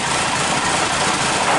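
A car engine idles at close range in a steady, unbroken rumble.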